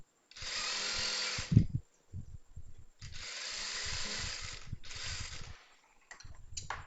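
An electric sewing machine double-stitches chudithar fabric in three long whirring bursts separated by short pauses, with small clicks and handling noises between runs.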